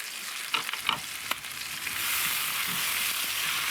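Vegetables, garlic and sardines sweat in a salted pan, giving a steady close sizzle with a few stirring clatters early on, the frying hiss thickening and holding evenly through the second half.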